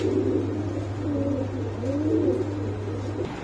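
Pigeons coo in low, soft, rolling phrases close by, repeating over a steady low hum, with no talking.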